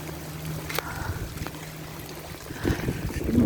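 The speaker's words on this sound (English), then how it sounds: "It's still flowing, my little trench." Rainwater runs along a small hand-dug trench during a long, heavy downpour, a steady low trickling rush close by with a few brief splashes and knocks.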